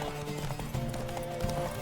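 Roach the horse galloping in The Witcher 3 during a race, rapid steady hoofbeats close and loud, continuous over the short span.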